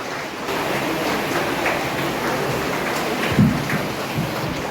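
Steady rain pours down in a continuous, fairly loud hiss during an outdoor village farewell function, with a faint low thump near the end and no speech over it.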